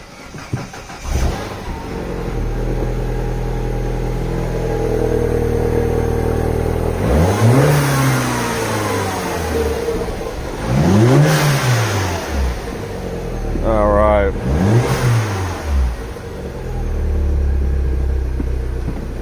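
A car engine cranks and catches, then idles with a low rumble before being revved several times, each rev rising and falling, close and loud.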